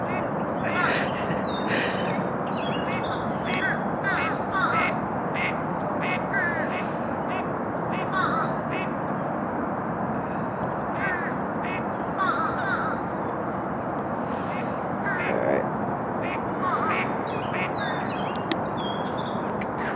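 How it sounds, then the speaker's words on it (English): Crows caw repeatedly, some near and some farther off, over a steady bed of outdoor ambience with other birds calling. "Crows too."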